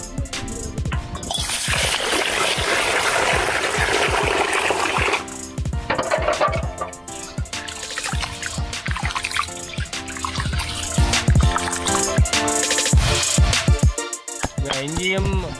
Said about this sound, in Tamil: ஒரு அரிசியை கழுவுவோம்.